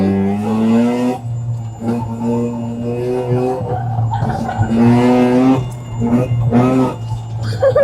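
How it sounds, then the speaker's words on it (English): A turbo Honda at an autocross event roars through a one-tire burnout, engine droning loudly with rising and falling revs and tire scrubbing, close by, with voices talking over it. "we just stood a burnout there for a sec"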